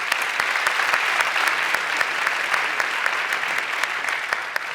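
An audience at a university panel event breaks into steady, dense applause that holds at an even level throughout, with no voices over it.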